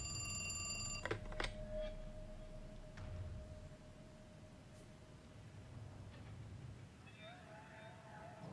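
A telephone rings in the psychological horror game The Cat Lady, a shrill bell tone that sounds over the first second and then fades into low, murky ambient game sound with a few faint tones later.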